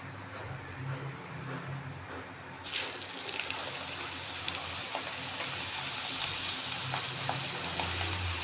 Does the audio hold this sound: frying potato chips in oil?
yes